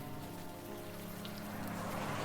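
Steady rain falls in the video game Unavowed, a dense, even hiss of drops on hard surfaces that continues without a break, with no speech over it.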